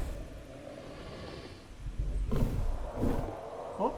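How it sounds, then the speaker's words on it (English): A prehistoric animal lets out a charging roar in the video game Prehistoric Kingdom: a deep, rumbling bellow that swells in two bursts over a soft ambient background, fairly faint and with no speech. "That's one of the charging roars"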